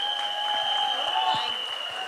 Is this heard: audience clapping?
yes